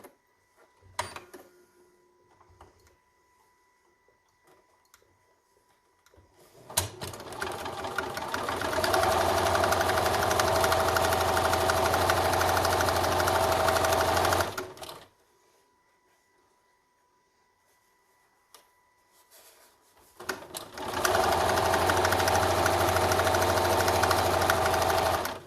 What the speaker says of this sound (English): we're just going to top stitch along the flat part that we just sewed